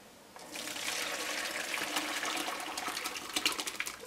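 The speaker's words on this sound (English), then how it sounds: "So what I'm going to do is we're going to bring it over here and I'm going to strain it" Cooked rhubarb liquid pours through a strainer into a bowl, a steady close trickle and splash that keeps going for several seconds with small drips near the end.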